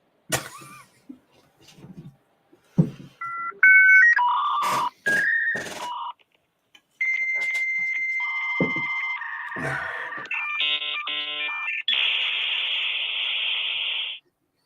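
A dial-up modem connecting: dial tones, screechy beeps and warbling handshake tones, ending in a long steady hiss of noise.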